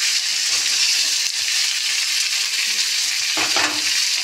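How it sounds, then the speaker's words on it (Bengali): Puti fish is tossed with onion, garlic and spices in a hot pan, giving a loud, steady sizzle with a brief scrape of stirring partway through. "এই পেঁয়াজ রসুন সব মশলার সাথে মাছগুলো একটু ভালোভাবে মাখিয়ে দিচ্ছি।"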